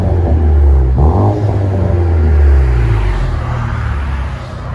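A 2016 Chevy Malibu LT Turbo with dual exhaust and muffler delete rumbles loudly up close, giving a quick rev near the start before settling into a deep, droning idle.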